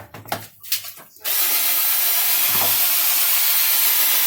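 An electric drill driving a stirrer through ethanol mash starts after a few short sounds, then runs as a loud, steady whirring drone close by until the end.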